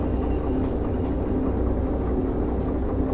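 A train rolling along in the railway game Derail Valley, heard as a steady low engine rumble with a dense rolling wheel noise that stays even throughout, with no talk.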